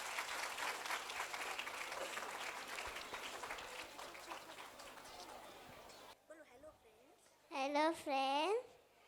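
Loud audience applause fills the first six seconds at a school annual function, then drops away as a voice speaks and sings near the end.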